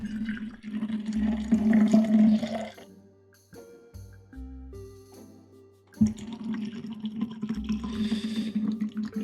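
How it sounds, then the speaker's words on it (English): Asian gold rice tea is poured into a cup in two close, splashing streams, with a quiet stretch of soft tonal music between them. "let me pour myself a little bit of tea"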